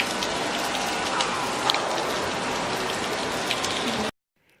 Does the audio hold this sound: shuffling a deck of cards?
no